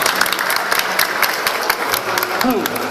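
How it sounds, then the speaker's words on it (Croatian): An audience applauds with dense, continuous clapping at fairly close range, and a voice briefly rises over the clapping toward the end. "Možete nas nagraditi onda jednim pljeskom."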